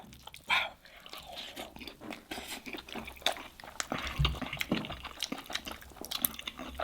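Someone eating Iraqi-style okra stew with lamb ribs, wet biting and chewing with moist, sticky mouth sounds and soft drips, close up and fairly continuous with no talk.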